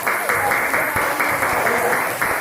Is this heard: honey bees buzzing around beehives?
no